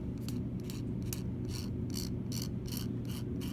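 A steady rasping scrape of a palette knife dragging paint back together, with rhythmic strokes about twice a second over a constant broadband hiss.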